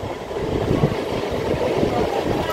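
MEMU passenger train rolling across the Godavari bridge, a steady, close, continuous rumble and rattle of the carriages with broadband noise throughout, no voices.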